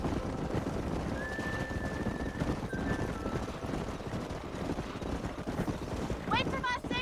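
Horses in a ranching video game give a couple of high neighs near the end over steady wind and muffled hoof clopping, with faint background music.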